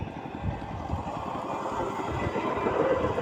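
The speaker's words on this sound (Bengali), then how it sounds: "অনেক স্পিড নিয়ে ট্রেনটি যাচ্ছে দেখুন" A train rolls at high speed along the rails near Rajshahi, a continuous rumbling clatter at moderate distance, with no voices.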